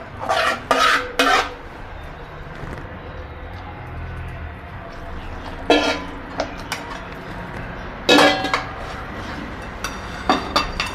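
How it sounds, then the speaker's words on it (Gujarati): Sugar syrup is poured into flour in a metal pan for mohanthal and stirred, bringing loud clusters of sharp spoon-on-pan clanks and scrapes between quieter stretches of low rustling. "ચાસણી તૈયાર થઈ ગઈ છે તો આપણે લોટમાં નાખી દઈશું."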